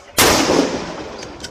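A single loud gunshot from a police Chinese rifle, a sharp close crack followed by a fading echo lasting about a second.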